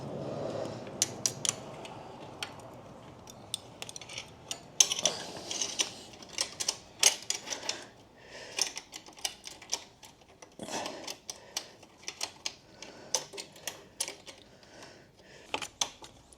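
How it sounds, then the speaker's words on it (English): Close, quiet metallic clicks, scrapes and ratcheting taps come in irregular bursts while a clamp is fitted onto a KTM 890 SMT Vandemon performance exhaust, with near silence between them. "I've got to just get this clamp on first."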